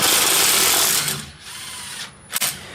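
A ratchet working on the caliper slide pins of a Chevy Silverado K2500 in a garage, a close, loud burst of mechanical clicking and whirring followed by a few sharp metallic clicks.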